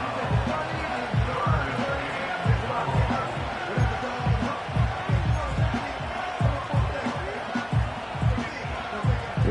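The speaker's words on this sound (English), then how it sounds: "This crowd turning up the decibel level" A stadium crowd roars at an NFL football game between the Giants and the Cowboys, a dense, steady wash of noise with rolling swells. Low thumps run beneath it throughout.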